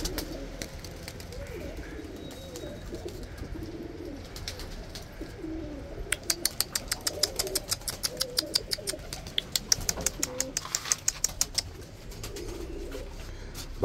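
Pigeons or doves cooing in soft, repeated low calls over a steady background murmur, with a run of sharp clicking taps in the later half.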